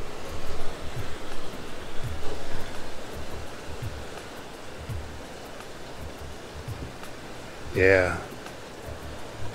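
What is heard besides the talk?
running water in downtown Caldwell, Idaho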